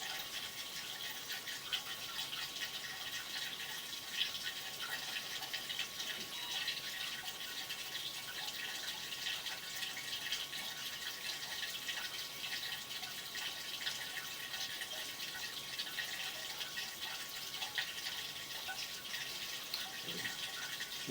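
Water runs steadily through a drain trap, making a continuous, even hiss and trickle that holds at the same level throughout, with no voices.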